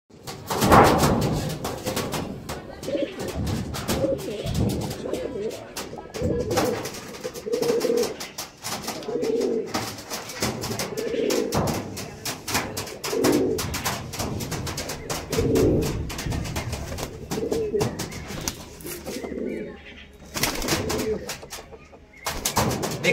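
Andhra pigeons in a loft at Amta coo repeatedly and close by, in soft throaty bursts, with occasional thumps and knocks around them.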